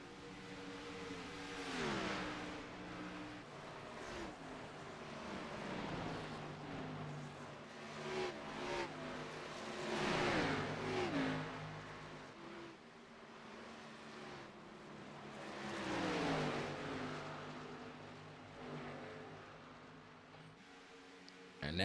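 Race cars circling a track under green flag in an MPI Series double-header, engines swelling and fading in repeated pass-by waves, revving through the corners at moderate distance with no talk.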